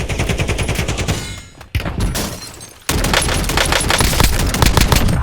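Rapid automatic gunfire in an Overwatch custom game mode, loud, close bursts of sustained shots with a short lull in the middle before firing resumes at full intensity.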